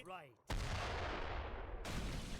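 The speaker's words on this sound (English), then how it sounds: "this mortar has a crazy good sound" A mortar fires in the Age of Empires III: Definitive Edition strategy game, one loud, sudden blast whose rumbling roar holds for over a second, then a second burst, with a brief voice just before.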